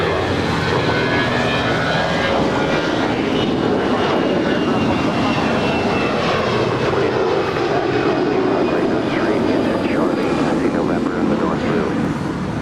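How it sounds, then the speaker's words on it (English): Alaska Airlines Airbus A320 departing Los Angeles International, giving a constant, fairly close jet engine roar that holds steady for the full stretch. "This is Alaska Airlines Flight 1108 departing to Washington Dulles. It's an Airbus A320."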